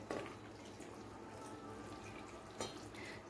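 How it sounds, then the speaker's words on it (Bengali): Water poured into a pan of potato and chickpea curry, a steady close splashing pour that runs through the whole moment, with a brief louder gush near the start and again toward the end. "ফাইনালি আমি এখানে জল দিয়ে দিচ্ছি"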